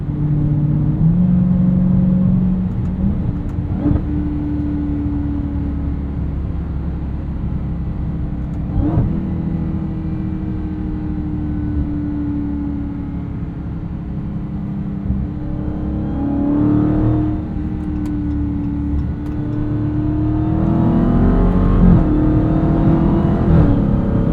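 A 2023 Dodge Charger Hellcat Widebody Jailbreak in track mode, its supercharged engine droning loud from inside the cabin, rising and falling through several revving surges and upshifts, building to a heavier push near the end.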